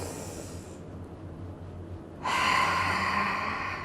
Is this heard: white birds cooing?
no